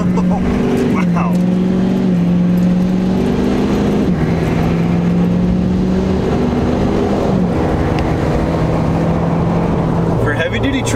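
Outside the exhaust of a heavy-duty truck, the turbocharged engine drones loud and close, stepping up and down in pitch as it is revved, unbroken for about eleven seconds.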